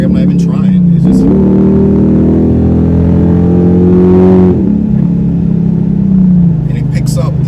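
A car with a supercharged V6 accelerates hard, its engine note climbing loudly and holding for a few seconds before easing off, close and prominent, with brief talk at the start and end.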